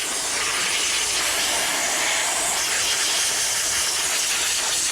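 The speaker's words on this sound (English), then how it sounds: "we'll hit this with some good old steam" A steam cleaner blasts the brake calipers of an E85 BMW Z4M with a loud, continuous, close hiss that holds steady throughout, with no talk.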